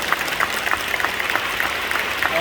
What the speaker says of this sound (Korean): 특별히 박수하겠습니다.